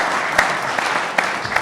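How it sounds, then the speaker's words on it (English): Audience applause at a Jewish values awards ceremony, a steady broad wash of many hands clapping with occasional sharper individual claps, even and moderately loud, no talk over it. "We can clap to that."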